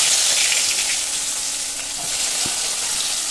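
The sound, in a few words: chopped onion frying in oil with black cumin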